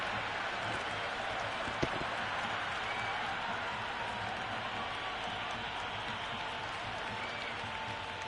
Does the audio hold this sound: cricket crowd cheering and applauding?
yes